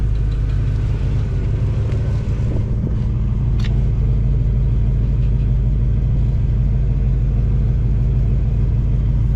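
A 1979 Pontiac Trans Am 10th Anniversary engine is run up against the brakes, giving a loud, close, steady low rumble that holds evenly throughout with no talking.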